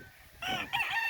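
A gamefarm rooster crows once nearby, a loud strained call rising in two stretched parts, heard alone without talk.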